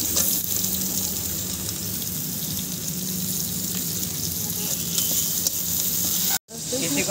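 A paste of onion, green chili, ginger and garlic sizzles loudly in a frying pan for a desi duck and chicken curry, a steady close hiss broken by a brief dropout near the end.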